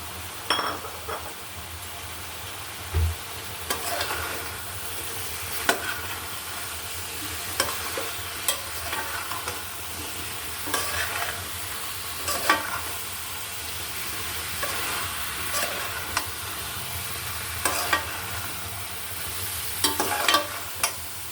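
Potatoes and cubed bottle gourd frying in a pan, a steady close sizzle broken by frequent stirring scrapes and occasional light clinks of the utensil against the pan.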